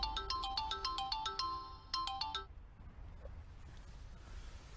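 A forgotten mobile phone plays a bright, repeating melodic ringtone for about two and a half seconds, then cuts off, leaving quiet room noise.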